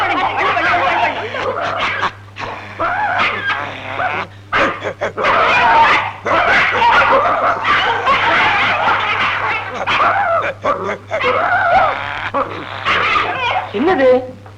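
A voice imitates a dog barking in a Tamil comedy film scene, with loud, continuous talk and voices running through the whole stretch.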